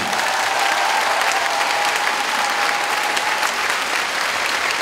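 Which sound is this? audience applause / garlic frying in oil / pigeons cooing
audience applause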